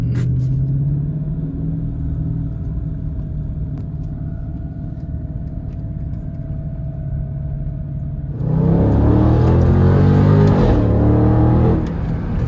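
A 490-horsepower Dodge Charger Scat Pack with a dual-clutch gearbox idles with a low, steady rumble, then its engine roars loudly as it revs and accelerates for several seconds, close by, with no talking.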